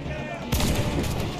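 Gunshots ring out outdoors, with one sharp loud report bursting in mid-clip and a rumbling tail after it. Faint background voices are heard before the shot.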